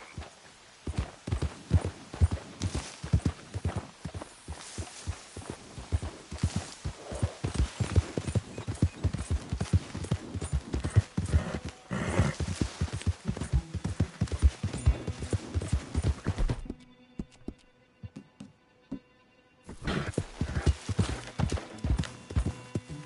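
Horse hooves clip-clop in a video game with a steady, rhythmic gait that is fairly close and loud, pausing briefly for a few seconds before resuming.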